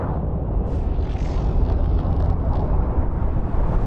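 The reactor of the crashed Aurora ship in the video game Subnautica explodes in a deep, loud, continuous rumbling blast that roars steadily for several seconds without any talk.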